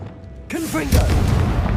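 A Confringo fire spell is cast in Hogwarts Legacy, a sudden booming blast with whooshing, crackling tail that swells and stays loud to the end, following a short stretch of quieter game sound.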